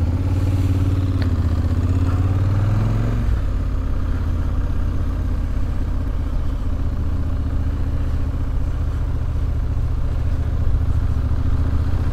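Motorcycle engines idle and rumble steadily up close, with one engine revving briefly at the start before settling into a constant drone.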